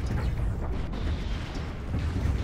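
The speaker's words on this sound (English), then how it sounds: "Some explosions over there." Ship explosions in the Stellaris 2.2 space strategy game during leviathan hunting, a continuous rumbling, dense barrage of booms and bursts at steady loudness with no voice over it.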